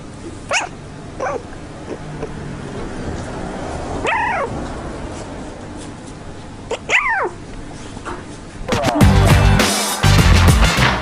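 A puppy gives a few short yips and whimpers spread out over several seconds, then barks rapidly and loudly near the end.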